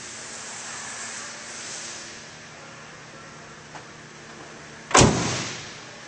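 Locking tailgate on a 2011 Dodge Ram 2500 pickup swinging open, a single sharp latch clunk and release near the end, preceded by faint outdoor hiss and a tiny click.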